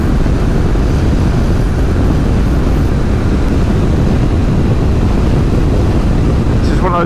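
Honda NC750X motorcycle at riding speed, heavy wind blast roaring steadily over the engine, loud and constant with no letup.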